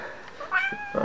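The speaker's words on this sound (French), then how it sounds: "elle miaule tout le temps comme ça." A house cat that wants to go outside lets out a short close meow, then a second rising cry, loud and clear over quiet room tone.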